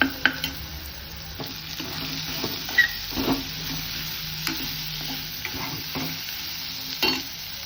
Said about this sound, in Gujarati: આદુ મરચાં લસણની પેસ્ટ સરસ ફ્રાય થઈ જાય ને એટલે લીલી ડુંગળી નાખીએ